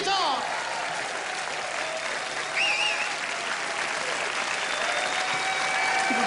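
Comedy-show audience applauding a guitar on stage, a broad continuous wash of clapping that holds steady for several seconds, with a few tonal sounds and some voices surfacing over it.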